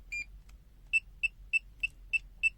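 A FUYI 8233D multimeter sounds its alarm: a short high electronic beep, then six evenly spaced clear beeps about every third of a second, close and crisp over a faint low hum.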